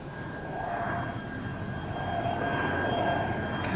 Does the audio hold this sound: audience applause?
no